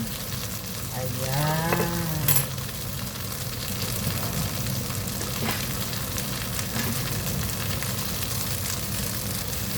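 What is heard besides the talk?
ginger frying in hot oil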